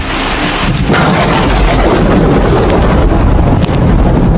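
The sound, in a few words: thunder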